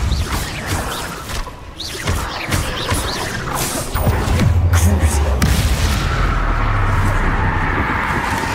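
Depulsor spell blasts in Hogwarts Legacy, a series of sharp impacts and crashing booms, the last settling into a sustained low rumble.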